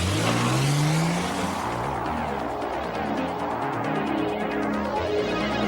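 A car engine revs up and drives past at close range, a loud rising roar settling into a steady rumble with a slight tire hiss.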